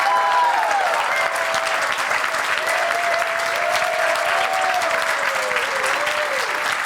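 A community forum audience celebrating immigrants in Marin breaks into loud, continuous applause, with a voice faintly audible underneath the steady clapping.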